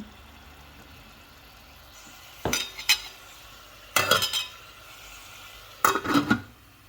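Tomatoes are turned in a frying pan with a utensil, three short scraping and clinking bursts over a quiet sizzle, close and fairly clear, with no talk.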